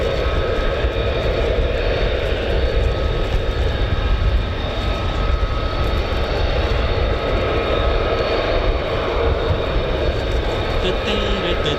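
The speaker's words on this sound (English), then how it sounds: "Enjoyed the sounds of that spooling Pratt & Whitney F-135" Steady, loud roar of an F-35 fighter's Pratt & Whitney F135 engine spooling at an air force base, a dense unbroken rumble holding for the whole stretch, with a voice speaking over it.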